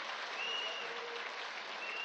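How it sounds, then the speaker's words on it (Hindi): An audience at a temple inauguration event in Rajasthan claps continuously, a steady wash of applause at moderate distance with no voices rising above it. "हम तालियों की गड़गड़ाहट कर रहे हैं।"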